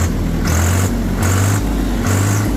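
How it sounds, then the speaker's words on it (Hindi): A Swaraj tractor with a 3308 cc engine and silencer idles with a loud, steady diesel throb, its tone rising and falling in regular surges about every 0.8 seconds, with no talk. "सबसे बढ़िया मुझे आवाज़ लगती है जी इसकी जो 3308 सीसी वाला इंजन है"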